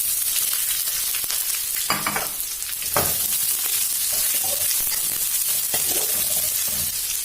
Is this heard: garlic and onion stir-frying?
yes